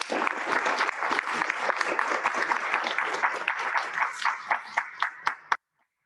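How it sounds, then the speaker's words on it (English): An audience at a student government meeting applauding, a dense burst of many hands clapping that thins into a few scattered claps and stops abruptly, loud and near. "Let's give a round of applause to Bessos."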